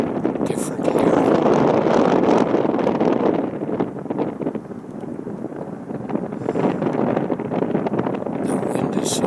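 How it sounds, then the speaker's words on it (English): Strong wind blows over a marsh and roars continuously into the microphone, rising and falling in gusts, with faint rustling in the background. "The wind is so strong."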